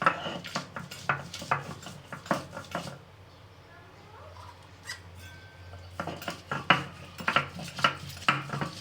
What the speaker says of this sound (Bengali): বিরিয়ানিতে দেওয়ার জন্য এগুলো বেটে নিচ্ছি, মশলাগুলো।